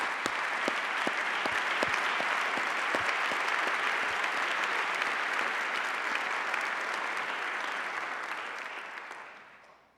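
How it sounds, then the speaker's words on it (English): A sustained round of applause fills a formal gathering in Indiana, steady dense clapping from a large audience for about nine seconds before fading out at the end. "Let's have a round of applause for their efforts"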